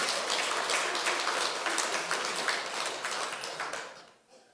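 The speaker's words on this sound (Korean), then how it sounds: "우리 각타원님 박수 한번 쳐드려야 돼" An audience claps for a woman minister during a Won Buddhist service in a temple hall; dense, sustained applause from a crowd fills the room, tapering off near the end.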